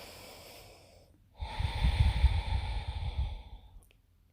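Deep, audible breathing during a vinyasa yoga flow: a loud, breathy exhale swells after a quiet pause, holding steady for about two seconds before fading, with no talking.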